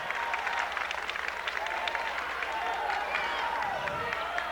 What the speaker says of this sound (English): Loramie crowd getting into it